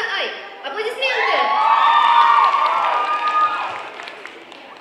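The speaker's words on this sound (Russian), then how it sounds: "Аплодисменты!" Audience at a cosplay club show applauds and cheers for a costumed performance, a loud, dense crowd roar with whoops and high shouts swelling over several seconds, voices mixed into the noise.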